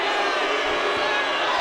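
A basketball arena crowd roaring and cheering at a UCLA vs Oregon college game, a dense, loud, sustained wall of noise under which an announcer's voice can be heard.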